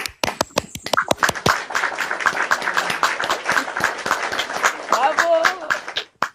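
A played-back applause effect gives sharp individual claps at first, then a dense sustained patter of clapping, loud and close, with a voice talking over the end.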